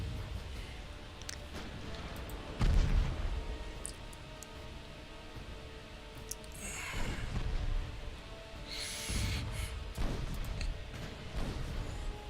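Naval guns firing from warships in the Ultimate Admiral Dreadnoughts naval battle game: scattered low booms and rumbling thuds, with one heavier blast near the start and lighter impacts spread through, against a steady background rumble.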